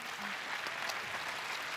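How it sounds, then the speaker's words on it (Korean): Brief applause from a forum audience for four speakers, a faint, even wash of clapping with a voice faintly present underneath. "여러분 네 분께 다시 한번 큰 박수 부탁드립니다"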